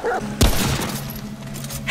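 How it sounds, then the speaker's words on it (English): A dog barks in the video game Remnant From the Ashes, one sharp loud burst close by, with a rough growling tail fading under game noise. "Look out for the dog."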